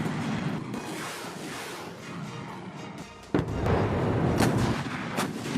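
Chinese PLA artillery drill with new rockets and howitzers firing, a continuous heavy rumble broken by a sudden sharp blast about halfway through, followed by loud roaring discharge.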